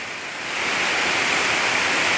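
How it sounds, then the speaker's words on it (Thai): Steady, dense hiss of rain pouring down beside a canal, rising slightly at first, then holding constant, with no voices. "มาเก็บบรรยากาศนะฝนตกริมคลองมาให้ชมกันนะ"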